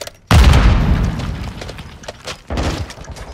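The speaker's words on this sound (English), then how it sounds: "Throwing flash grenade!" A flash grenade detonates in Modern Warfare with a loud, sudden boom and a short ringing burst, followed by a second thump a couple of seconds later amid combat noise.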